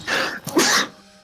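Someone lets out a sneeze close by, a loud breathy burst in two quick parts that fades into quiet.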